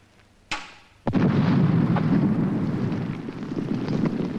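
A loud explosion from a 1986 educational demonstration goes off with a sharp crack, then a second deep blast that rumbles on and holds steady to the end.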